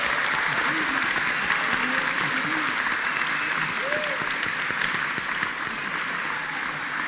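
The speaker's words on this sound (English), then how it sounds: "why don't we just give a universal applause to students who are standing up" A lecture-hall audience at a Q&A session applauds steadily for several seconds, a broad wash of clapping that softens slightly toward the end, with faint voices talking underneath.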